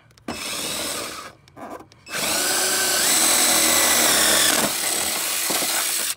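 A power drill whirs in short bursts, then runs steadily at high speed for several seconds, loud and close, during a Honda S2000 wide body kit install.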